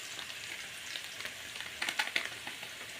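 Sliced snake gourd frying in oil in a pan as turmeric powder goes in, a soft steady sizzle with small crackles and pops, close and fairly quiet, no voices.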